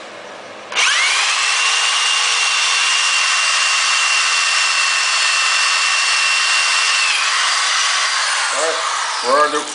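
A power saw cuts through a rear brake part on a G-Body 10/12-bolt rear end, giving a loud continuous high whine that holds steady for about eight seconds, then stops, with a few metallic clinks afterward.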